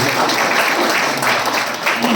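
An audience claps at a welcome party, a steady burst of loud, continuous applause with a voice faintly over it.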